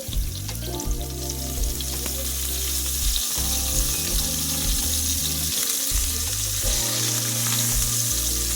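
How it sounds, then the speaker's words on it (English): Fresh rosemary fries in hot oil while being stirred, a loud, constant crackling sizzle with occasional scraping of the stirring utensil, close up and with no voices. "So just put everything together and give it a stir, which is just going to bring out an amazing flavor into the oil."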